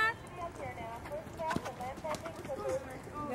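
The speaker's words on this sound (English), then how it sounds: "Canter your horses. At the canter, please." Horses cantering in a show arena, hooves clip-clopping in a steady rolling rhythm at moderate distance while people talk over them throughout.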